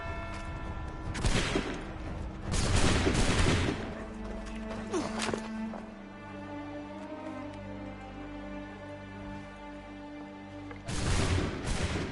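A musket volley in Assassin's Creed 3 goes off as several loud, close bursts of gunfire, followed by a lingering tonal score, then another burst near the end.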